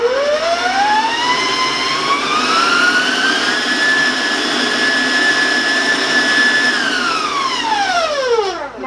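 An electric mixer beating buttercream frosting gives a loud motor whine that rises in pitch as it speeds up, holds a steady high drone for several seconds, then winds down as it slows.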